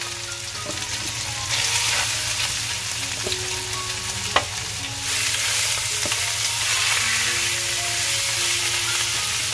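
Chopped jackfruit vegetable hits hot oil and spice paste in a pan and is stirred, giving a steady close sizzle that swells as more goes in, with an occasional sharp utensil knock.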